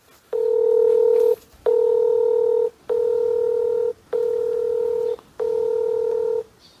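A phone dials out to a seller in five long, steady touch-tone beeps separated by short gaps, clear and close with nothing else over them.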